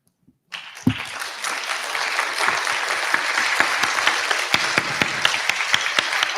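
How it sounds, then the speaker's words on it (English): An audience applauds a panel of three speakers at an African Liberation Day event, the clapping starting abruptly and holding as a dense, steady crowd roar with a few sharper individual claps, no talking over it. "One more round of applause to all three of our panelists."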